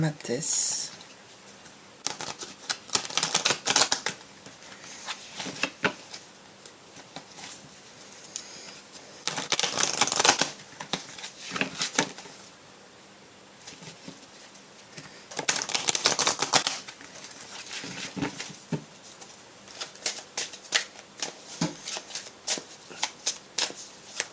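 Oracle cards are shuffled by hand for a tarot reading, giving repeated bursts of crisp riffling and flapping in uneven clusters, close and moderately loud, with a person talking quietly between some bursts.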